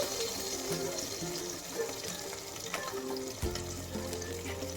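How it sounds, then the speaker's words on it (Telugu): Fish pieces fry in oil on a medium flame, producing a soft, steady bubbling sizzle with occasional pops and a clatter near the end. "రెండో వైపు కూడా ఒక రెండు మూడు నిమిషాలు మీడియం ఫ్లేమ్లో ఫ్రై చేసుకోవాలి"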